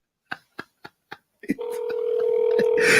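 A phone dials out with four short, evenly spaced tones, then a steady ringback tone sounds, loud and close, with a faint voice near the end.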